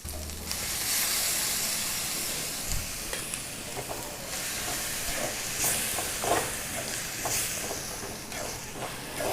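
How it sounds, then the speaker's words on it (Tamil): Ground tomato sizzles and hisses steadily in a pan for crab masala, with occasional scraping stirs, close up and continuous, without any talking. "தக்காளியை ஒரு 2 நிமிஷம் வதக்கிக்கணும்"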